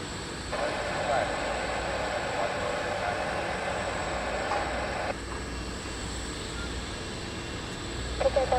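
A FedEx Boeing 777F freighter rumbles at Taoyuan International Airport in Taiwan, a steady distant jet drone that holds and then eases, with radio voices talking over it.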